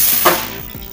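Water splashing and hissing into a hot pan for beetroot rava kesari, a short steady rush.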